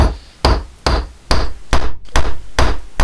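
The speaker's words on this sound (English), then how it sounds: "I think I'm tempting fate here with my fingers being so close to this hammer." A hammer knocks parts into a button die in the workshop. Eight sharp, loud, evenly spaced metal blows land close by in a steady rhythm.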